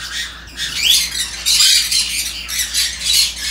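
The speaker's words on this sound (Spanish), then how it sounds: "las aves se vuelven medias loquitas cuando se ven una a las otras" Agitated birds in an open aviary squawk and screech loudly and continuously, with overlapping harsh calls close by.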